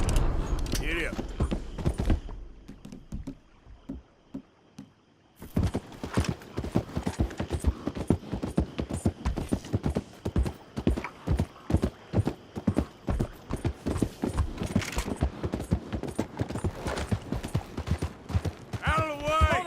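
A horse gallops in steady rapid hoofbeats in Red Dead Redemption 2, clip-clopping continuously after a brief pause, with creaks, a short whinny and game voices mixed in.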